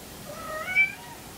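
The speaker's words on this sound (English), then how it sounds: "Can you guys hear my cat?" A house cat gives a single soft, drawn-out meow that rises and falls, fairly faint and close by, against a quiet indoor room with no talking.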